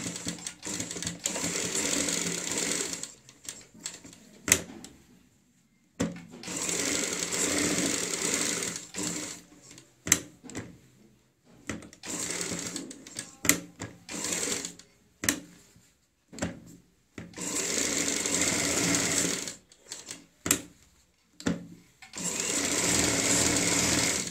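A sewing machine stitches the collar of a kurti in repeated loud bursts of running, stopping and restarting, with short quiet gaps and occasional clicks between runs.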